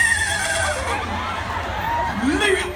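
A man on a comedy stage imitates a horse's neigh with his voice, giving a wavering, whinny-like cry that rises and falls. It is close and fairly loud, with room noise underneath.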